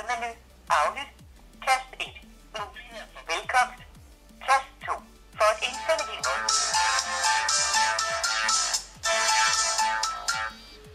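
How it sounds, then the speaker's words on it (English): Ringtone from a KingWear KW88 AMOLED smartwatch placing a test call through its phone dialer, a repeating electronic ring pattern that runs on and off and then grows into a denser, sustained melodic tone. "Next there's a normal phone dialer, and let me try a test call."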